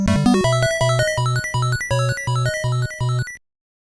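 Bright 8-bit NES-style chiptune written in MML: a quick square-wave arpeggio opens, then a steady bass pulse and short melodic blips repeat in an even rhythm for about three seconds before stopping abruptly.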